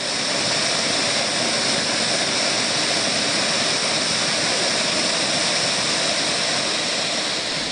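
A cave waterfall dropping about 60 meters into a pool roars as a dense, constant, loud rush with no change in level and no voices.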